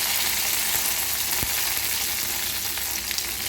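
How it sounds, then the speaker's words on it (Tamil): Mustard seeds sizzle in hot oil in a kadai, giving a steady close-up hiss with one sharp crackle partway through and no voices. "எண்ணெய் சூடானதும் கொஞ்சம் கடுகு போட்டுக்கலாம்"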